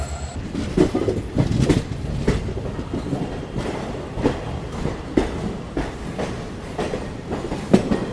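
A special passenger train from Delhi to Prayagraj rolls along with steady clickety-clack wheel beats over rail joints, a close, continuous rumble punctuated by regular rhythmic knocks.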